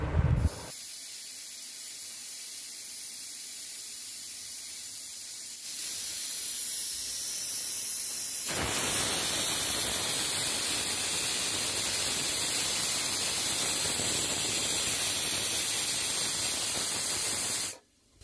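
A pressure cooker cooking dal vents steam in a loud, continuous hiss that grows louder partway through and keeps going for a long stretch before stopping abruptly.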